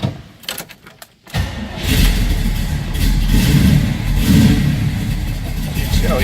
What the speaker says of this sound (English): Let's go ahead and fire this one up.